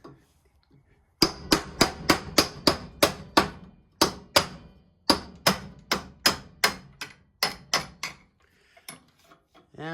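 A hammer taps a shaft out of an Ariens 624 snowblower in about twenty sharp metallic strikes, close and loud, coming in quick runs of several blows with brief pauses between them, and no talking.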